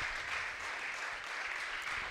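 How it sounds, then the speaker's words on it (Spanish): An audience at a live event at Arjaus in Buenos Aires applauds, a continuous faint wash of many hands clapping heard from a distance, steady throughout with no talk on top. "voy a pedirles un fuerte aplauso para este genio gracias"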